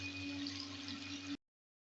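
Water being poured into a pot of onions and tomatoes makes a quiet, steady stream for just over a second before stopping abruptly, with no voices.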